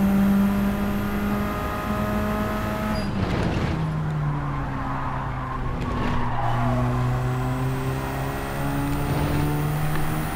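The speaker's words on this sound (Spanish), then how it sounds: "Joder, cómo derrapa el coche ahora," Race car in Gran Turismo 7 skidding on track, steady engine drone with tire squeal building midway, sliding pitch shifts through the second half, loud and continuous without talk.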